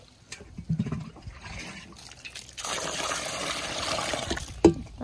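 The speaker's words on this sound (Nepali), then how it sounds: "अब पानी लाएर भिजाइराख्नुपर्छ यसरी" Water is poured and trickles into soil to soak it for mud work, with splashing and dribbling that grows steadier midway, close by, and no talk.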